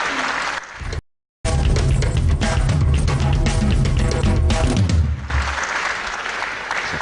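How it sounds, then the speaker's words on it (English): An audience at a professional wrestling match claps in a sustained, dense burst that rolls on for several seconds, broken by one brief cut to silence, with a low crowd rumble underneath. "First, a real bit of applause for some excellent move there by both men."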